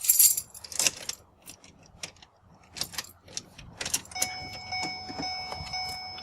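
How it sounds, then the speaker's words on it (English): Keys jangle close by in the ignition of a 2008 Ford Escape as it is powered on, giving several quick metallic rattles and clicks, followed by a steady electronic tone as the dash comes alive. "power on the car and see what happens."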